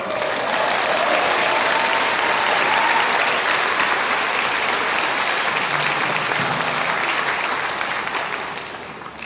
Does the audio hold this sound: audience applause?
yes